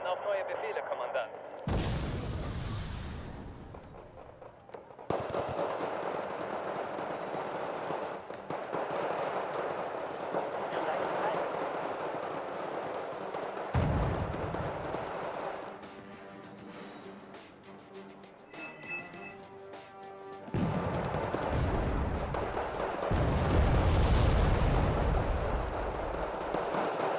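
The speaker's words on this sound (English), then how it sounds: "Yeah, just the artillery." Artillery in the video game Wargame: Red Dragon fires in heavy, rumbling booms, several loud deep blasts spread across the stretch with sustained battle noise between, while game voices and a player talk over it.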